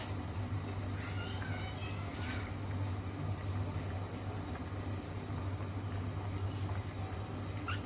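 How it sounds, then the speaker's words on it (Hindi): Water comes to a boil in a pot for chana daal pulao, giving a faint, steady low bubbling hum with a few soft high squeaks over it. "यहाँ पे पानी जो है वो बॉयल होना शुरू हो चुका है"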